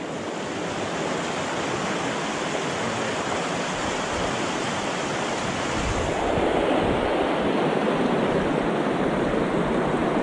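Rushing water of rapids on the Suna river, a steady broadband roar that swells louder partway through, with wind buffeting the microphone and no talk.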